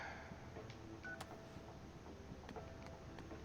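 Phone dialing in the video game Crisis Core: Final Fantasy VII, quiet beeps and ticks spaced irregularly over a low, steady game background.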